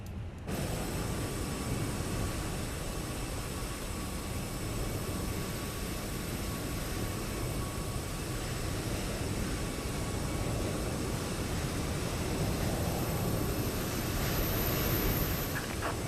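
Airbus A321-200 engines in the Fenix add-on for Microsoft Flight Simulator spool up into a steady, even roar with a faint high whine. The sound holds at constant loudness throughout, with no talking.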